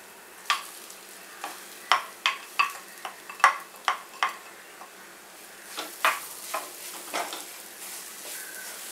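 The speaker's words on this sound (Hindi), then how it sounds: "इसे अच्छे से मिक्स करना है और अच्छे से भून लेना है मसालों के साथ" Ground moong dal stirred and roasted with spices in a pan for Shegaon kachori filling, a run of sharp, close spoon scrapes and clinks in uneven rhythm over a faint background sizzle, with no talking.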